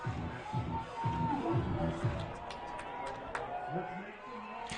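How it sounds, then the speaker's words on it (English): Football stadium crowd building in volume before a fourth-and-one play, a broad roaring hubbub of many voices with shuffling and distant cheering, while a commentator talks over it. "crowd getting loud from their own territory"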